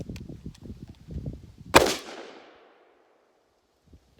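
A Smith & Wesson S&W 500 revolver fires a single loud, sharp shot outdoors after muffled talking nearby, the blast ringing out and decaying over about a second into quiet.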